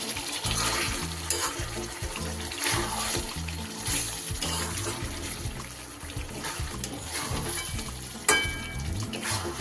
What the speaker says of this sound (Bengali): এবার আমি ভেজে রাখা মশলাটা দিয়ে দেব, দিয়ে একটু খুব ভালো করে নাড়িয়ে দেব।